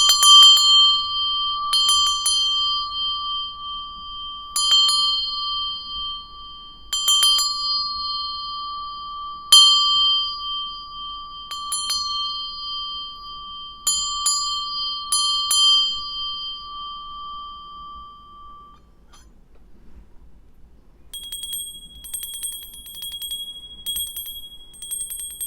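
A Tibetan bell rings clearly about a dozen times in spaced single and double strikes, each tone sustaining and decaying in a quiet room, followed by a brief higher tinkling near the end.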